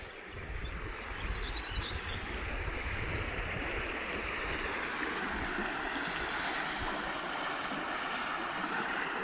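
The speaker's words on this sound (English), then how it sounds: "it's lovely just to hear the river" The River Derwent flows in a steady, broad rush of water on a quiet early walk, a constant moderate wash with faint wind and no voices.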